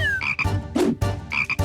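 A frog croaks loudly and up close in a string of hoarse, rasping calls, the longest burst in the middle, with no voices over it.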